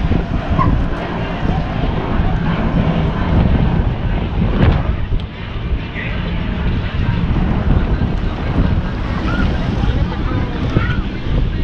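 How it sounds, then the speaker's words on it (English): Strong wind buffets the microphone on a fishing pier at Dania Beach, a continuous low roar gusting throughout, with faint water sounds beneath. "Because it's super windy"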